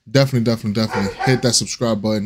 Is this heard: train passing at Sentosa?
no